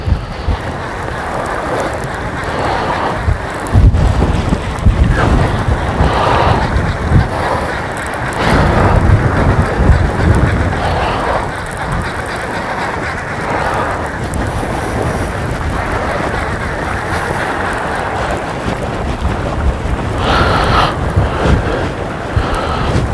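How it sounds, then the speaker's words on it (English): Strong wind gusts and buffets outdoors beside the water at a fishing spot, rumbling against the microphone in uneven surges that rise and fall throughout, with no clear talking. "Wind is very much picked up here today, which is not what we want really."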